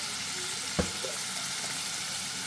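Onion and tomato frying in a pan for a dried-prawn curry, a quiet, steady sizzle with one sharp knock of a utensil early on and a few soft stirring scrapes.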